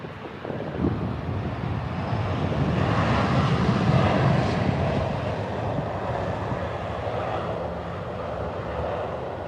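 Virgin Atlantic Airbus A350 airliner passing near Heathrow in London: a broad, steady jet engine roar swelling to a peak and holding, with wind buffeting on the microphone.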